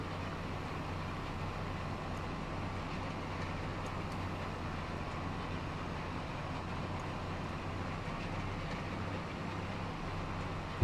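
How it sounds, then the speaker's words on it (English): Train passing a field in the Judith Plains area of Montana, heard from just outside a tractor cab: a faint, steady low rumble and hum with no clear rise or fall, and no talking. "There goes the train."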